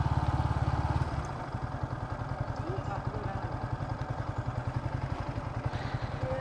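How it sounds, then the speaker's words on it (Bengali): A motorcycle engine idling as the bike is parked, a steady rapid low putter close by that shifts slightly in pitch after the first second, with voices talking over it. "এখানে বাইক রাখি আমরা।"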